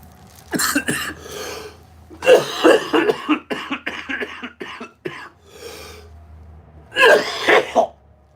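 Repeated rough coughs and throat clearing, close and fairly loud, arriving in several clusters with short pauses between.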